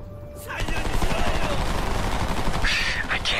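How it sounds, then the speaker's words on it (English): Enemy gunfire in the video game Homefront: a sustained burst of rapid automatic shots starts after a brief quiet moment and rattles on loudly, with crisp cracks in steady succession. "Oh, they're shooting"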